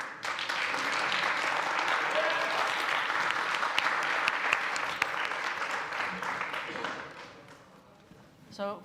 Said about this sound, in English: All right, can we have a round of applause for candidate number 1?